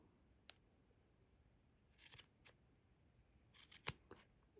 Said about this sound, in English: I just keep trimming and trimming and shaping and poofing